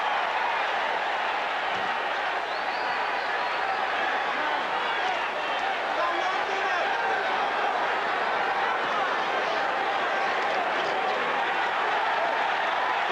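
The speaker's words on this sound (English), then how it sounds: "A couple of pouring blows, and the fans cheer" Boxing crowd roaring and cheering at a heavyweight fight, a dense steady wall of crowd noise that runs throughout, with applause mixed in.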